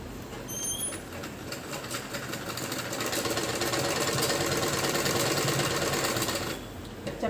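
A sewing machine stitching the waistband of a plain kachchha. It makes a close, continuous rapid whirring drone that swells louder through the middle and stops near the end.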